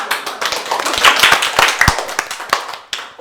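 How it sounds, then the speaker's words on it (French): A small studio audience on a radio show claps: quick, crisp hand claps, close and lively, thinning out toward the end. "Bravo, Maëlle, ça t'applaudit encore."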